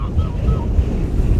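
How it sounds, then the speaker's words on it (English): Strong lakeside wind buffeting the microphone in a low, continuous roar with gusty rumbles, loud and close throughout. "Oh man, it is windy here."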